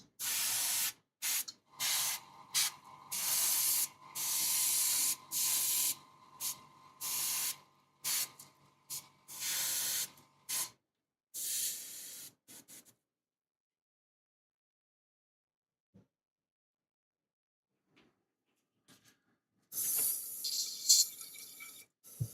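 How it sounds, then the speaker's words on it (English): Airbrush spraying paint in a series of short and longer hissing bursts, close and loud, separated by brief gaps, then a long silence before a few more bursts near the end. "I'm gonna clean out the airbrush really quick and then move on to the next part"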